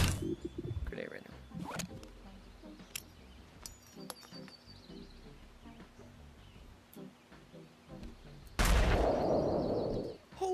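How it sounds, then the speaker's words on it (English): A grenade explodes in the VR game BoneLab with a loud, broad blast near the end, after scattered clicks, taps and bursts of speech. "we are going to use grenade right now"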